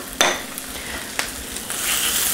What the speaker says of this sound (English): A little stir here.